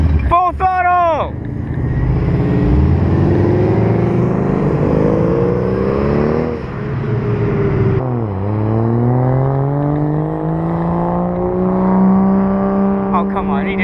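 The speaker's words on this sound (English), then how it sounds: "Is it worth getting an M5 to rev? I think so. Full throttle!" A BMW M5 engine revs hard at full throttle at a car meet, loud rising and falling engine pitch sweeping up repeatedly, with sharper rev bursts at the start and end.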